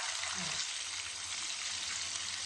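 Flattened larb patties fry in oil with a continuous, close hissing sizzle that stays steady and fairly loud throughout the brief moment.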